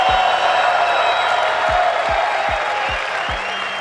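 Audience at a live motivational talk claps and cheers, a dense sustained roar of applause filling the room with low thumps of bass beats pulsing underneath throughout.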